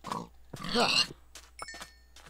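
A pig in a modded Minecraft-style game (Ars Magica mod) gives a few short, close grunts, clear against a low steady hum.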